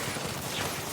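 Missiles in the tower defense game Axon TD: Uprising launch in a dense, continuous barrage, a loud noisy rush of rapid blasts filling the whole moment.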